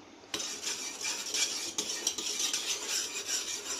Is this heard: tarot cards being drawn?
no